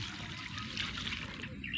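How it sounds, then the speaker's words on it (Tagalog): Water trickles and pours onto the trunk of a newly planted mango tree on a farm, a steady close splashing dribble with no talk over it. "Babasain natin yung kanyang puno ulit."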